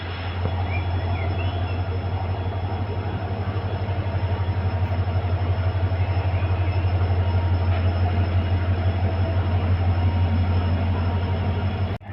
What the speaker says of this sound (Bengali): আর আমাদের ট্রেন এখন ছাড়বে